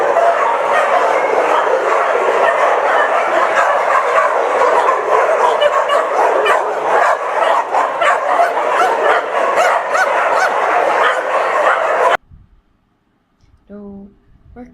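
A kennel holding hundreds of dogs erupts in dense, continuous barking and yipping, loud and chaotic, then cuts to near silence with a brief faint sound at the end.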